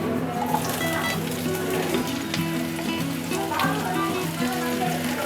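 Spring onion whites sizzle steadily in a hot frying pan, a dense close crackle that runs throughout while a voice speaks over it.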